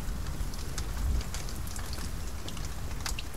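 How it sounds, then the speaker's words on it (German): Steady rain pours in the survival video game The Forest, a dense, even hiss of drops with a brief heavier low rumble near the start and no voices. "es regnet"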